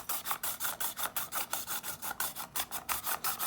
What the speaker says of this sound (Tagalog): Mag-i-start na tayo sa pagkudkod.